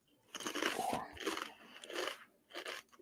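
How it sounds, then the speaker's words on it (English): Loud, close crunchy chewing and biting in three or four distinct bursts with short pauses between, heard alone without talk. "that's quite a loud chew you got there."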